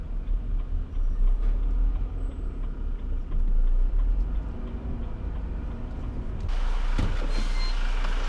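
Lorry being reversed and tucked into a tight spot near a loading bay on a London street, with loud engine rumble, intermittent reversing beeps and a burst of air-brake hiss near the end.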